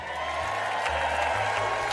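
An audience applauding in a played recording, a steady dense wash of clapping that holds evenly for the full two seconds with no voices on top.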